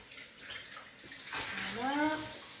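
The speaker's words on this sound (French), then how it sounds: "Et rincer bien sûr la mousse." Tap water runs and splashes while soap foam is rinsed off a steamer pot, a soft steady gush that swells louder toward the end, with a brief voice heard under the water.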